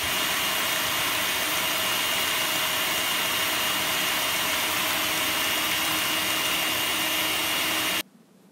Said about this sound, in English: This is a four-cylinder Lego engine that uses a vacuum to power it.